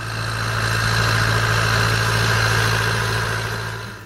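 A Ford 5000 tractor's 4.2-litre four-cylinder diesel runs at a steady idle, a loud, close, even droning throb with a constant low hum that eases slightly at the end.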